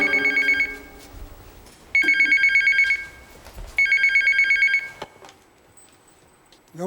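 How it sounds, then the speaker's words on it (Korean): Telephone bell rings in three sharp trilling bursts about two seconds apart, loud and close, then stops. "정막을 깨는 전화벨이 울리는데"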